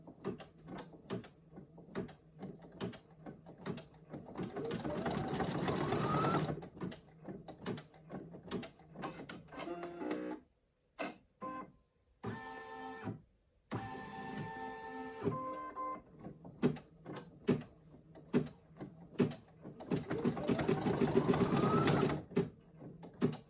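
A Brother embroidery machine (NQ1700e or PE800) stitching snap placement holes for a triangle coin purse: a rapid, rhythmic mechanical clatter that pauses briefly near the middle, gives a few whirring and clicking moves, then resumes.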